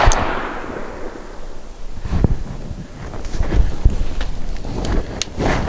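A Benelli M2 Super 90 semi-automatic shotgun fires outdoors at a range in a loud, sharp blast at the start, followed by wind buffeting the microphone and a few fainter thumps.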